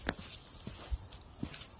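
Horses walk along a trail north of Krewstown Road, giving a few faint, widely spaced hoof clops at a distance.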